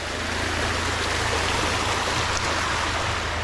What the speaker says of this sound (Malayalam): അങ്ങോട്ട് വെള്ളം ഒഴുകി തന്നെ ഒരു ചെറിയൊരു സ്ട്രീം നമുക്ക് കാണാം